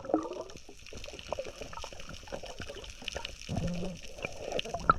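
Strong river current flowing steadily through a fishing spot, a continuous mid-level wash of water with gurgles and trickles throughout.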